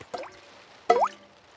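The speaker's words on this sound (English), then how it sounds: "It is raining and the school roof is leaking again." Water drips through a leaking school roof during rain in a cartoon, two distinct wet drops a moment apart, close and clear against near silence.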